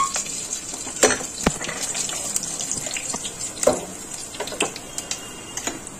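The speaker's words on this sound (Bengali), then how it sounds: "মাছ ভাজার তেলটাতে ফোড়ন দেব। হচ্ছে তেজপাতা, শুকনো লঙ্কা আর হচ্ছে গোটা জিরে।" Bay leaf, dried chilli and whole cumin crackle in hot oil left from frying fish, sparse sharp pops and ticks scattered over a soft steady hiss, close and fairly quiet, no talk.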